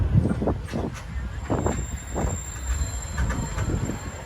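Walt Disney World Railroad train rolling into a station, heavy rhythmic wheel clatter and metallic clunks close by, steady and loud with brief squeals, no voices.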